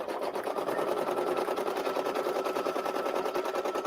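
An embroidery machine stitches satin stitches on an in-the-hoop fall project, giving a steady, rapid mechanical whir with a fast even needle rhythm that runs unbroken throughout.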